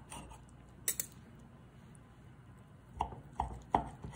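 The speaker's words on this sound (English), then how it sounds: "we're gonna cut in and see how that egg yolk looks" Knife and fork cutting into a poached egg on Eggs Benedict, with a cluster of light clinks near one second. Three sharper taps against the plate follow near the end. The sounds are faint and close, with no talk.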